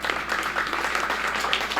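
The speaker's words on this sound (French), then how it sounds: "je vous demande bien sûr d'applaudir les artistes." Steady applause from an audience for performing artists at an arts centre event, many hands clapping densely and evenly throughout with no pauses, fairly close and moderately loud.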